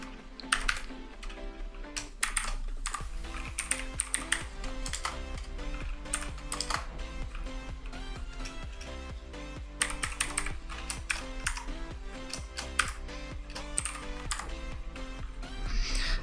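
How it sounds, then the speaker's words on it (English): Typing on a computer keyboard while writing code in a Jupyter notebook, a steady run of clicking keystrokes with occasional bursts, heard over continuous background music for the full length. "let me just write down a piece of code."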